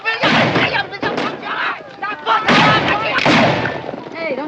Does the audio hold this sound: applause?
no